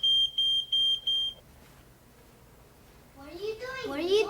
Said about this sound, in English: going to give you my warning beep